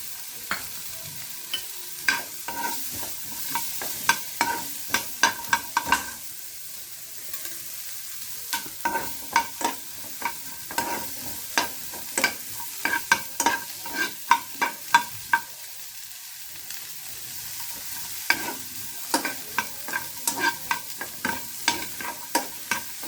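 Onions and coconut fry in a pan for a capsicum curry, with a steady sizzle broken by repeated sharp scrapes and clinks of a stirring spoon in an irregular rhythm, close by and with no voices.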